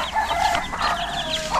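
Several chickens cluck and chatter close by, overlapping bursts of clucking over a steady background, with no talking.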